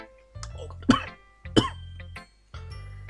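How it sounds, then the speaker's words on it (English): Three harsh, throaty coughs close up, spaced about a second apart, each with a rough, strained rasp. "Oh god, sorry, coughing fit."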